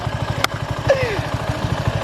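Motorcycle engine pulsing at a low idle-like rhythm, rising slightly as more throttle is given, close and steady throughout with a brief sharp tick and a faint tone sliding across it.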